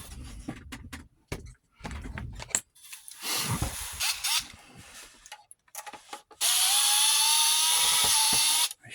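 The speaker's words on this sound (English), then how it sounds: "So let's move these two screws." Screws are being removed from a Sankyo Super 8 Sound XL-400S projector: scattered clicks, knocks and handling noises, then a steady whirring run of a motor or power driver for a few seconds near the end.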